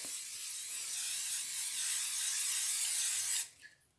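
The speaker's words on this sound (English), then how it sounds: "prepare my loaf pan right here by spraying it with some cooking spray" Cooking spray hisses steadily into a loaf pan for over three seconds, a close, even aerosol spray that stops abruptly, leaving a faint clink as the nozzle is released.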